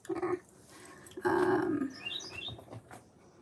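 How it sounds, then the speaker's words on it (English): A bird chirps outdoors, a few short, high, faint calls that come midway through, amid background noise and a louder rustling burst. "Did y'all hear that bird? Hello, bird."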